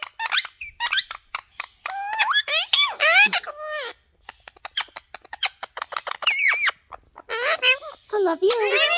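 Parrots of three colours squawk and squeak in rapid bursts, loud and close, with sharp chirps and screeches running through the whole stretch and brief pauses between flurries.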